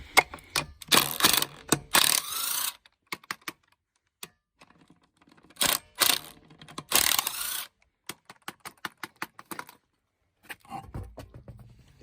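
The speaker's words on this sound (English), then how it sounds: "First, we remove the wheel." Lug nuts being worked off a Jeep Wrangler front wheel in a driveway, with bursts of ratcheting and clicking mechanical noise separated by pauses, close and moderately loud, ending in a low scrape.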